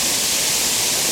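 Steady roaring rush of a waterfall at Epcot's Canada pavilion, a dense, continuous wash of falling water filling the space evenly from start to finish, loud and close with no voices.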